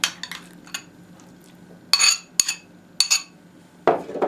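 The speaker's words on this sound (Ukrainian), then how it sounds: "І перемішую." A spoon clinking against a bowl while salad is mixed with homemade mayonnaise, a few sharp separate taps and scrapes with quiet gaps between them, close and without speech.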